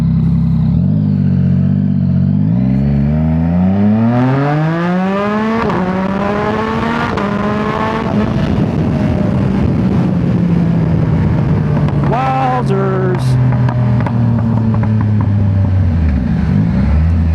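A Victory motorcycle engine pulls hard through the gears, pitch climbing in repeated rising sweeps and dropping at each shift, loud and close throughout, finishing with a sharp rev burst and a long settling whine.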